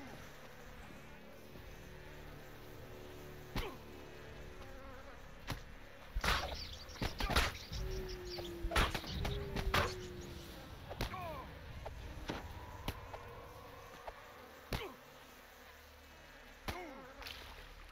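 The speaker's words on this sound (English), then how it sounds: "A soft buzzing sound can be heard as you approach the door. Bees swarm near their hives." Bees swarm near their hives in the video game DDO, a soft insect buzz drifting under a quiet ambience, punctuated by several sharp thuds and clicks from the game.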